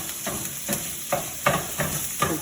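Ground meat sizzles in a pan while a meat masher breaks it up, giving steady frying hiss with about six regular scraping, mashing strokes, close and moderately loud.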